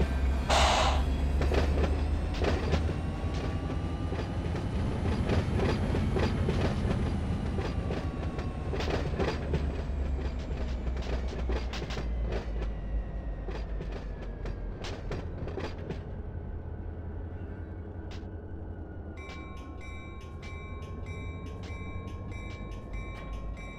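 A railroad video game train couples and moves off, with loud rolling rumble, sharp repeated clanks and clicks of the knuckle coupling, and squealing tones, easing into quieter running with a steady whine near the end.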